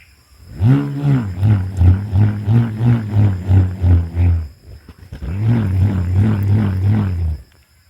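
A tiger-roar folk instrument plays a deep, throaty growl in rapid pulsing strokes, pauses briefly, then sounds again as a steadier, sustained rumble.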